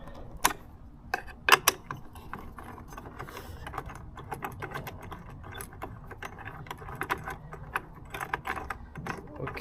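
Plastic clicks and small rattles come from taking the cap and mirror off a Gio Titan scooter throttle handle, irregular close taps and snaps with a couple of louder clacks near the start and faint handling noise between.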